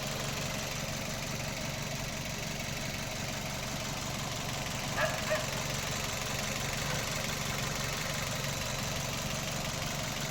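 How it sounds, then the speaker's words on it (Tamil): A Wagon R 1.2 litre petrol car engine idling smoothly and quietly, a steady low hum and rumble throughout with a couple of faint clicks midway and no talking. "இன்ஜின் பாருங்கள், ரன்னிங்கில் இருக்குது."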